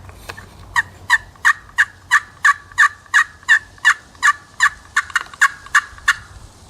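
An MMGK turkey call played by hand gives about eighteen evenly spaced, sharp yelping notes in a steady rhythm, close and loud, with a slightly raspy finish at the end.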